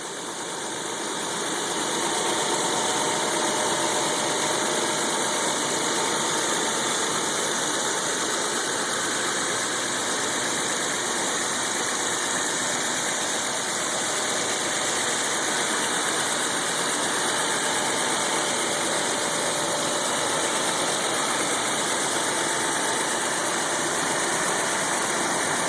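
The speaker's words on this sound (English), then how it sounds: "I'm letting the vehicle sit and idle and come to a full warm up." A Toyota Tacoma pickup's engine idles steadily through a warm-up after a new AFE cold air intake install, a continuous, even mid-pitched hum with a high whine running throughout, with no talk.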